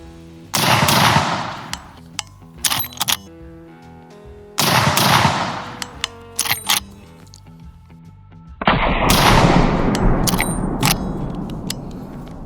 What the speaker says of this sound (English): We'll send 3 shots down range and see what kind of accuracy we get shooting through the brush.